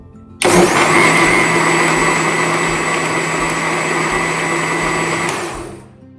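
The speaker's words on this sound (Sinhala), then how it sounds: "මේක තව එකපාරක් බ්ලෙන්ඩ් කරලා පොඩි පුංචි වෙලාවක් බ්ලෙන්ඩ් කරලා ඉවර කරමු" An electric blender whirs through a wood apple (diwul) drink, starting abruptly into a loud, steady motor whine with a constant high hum, running about five seconds before winding down.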